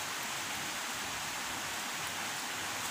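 Steady rain falls in an even, dense hiss that stays constant throughout, with no voices.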